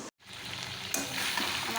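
Chicken cooked down until its oil separates in the pan, a close, continuous sizzle and bubbling fry that starts after a brief dropout and grows slightly louder, with no voices.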